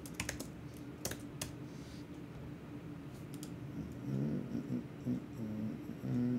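Typing on a computer keyboard while entering a sudo command, a quick run of crisp clicks at first, then scattered keystrokes over a faint background hum.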